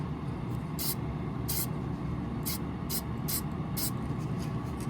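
A series of short hissing spray bursts, about six, spaced irregularly over a steady low background hum, as a light mist is sprayed onto exotic leather cowboy boots (alligator, ostrich).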